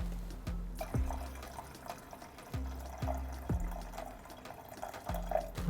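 Water and vinegar poured into a stainless steel saucepan on a La Cornue Castel 60 range cooker, a few separate splashing pours with soft liquid trickle between them, close and moderately quiet.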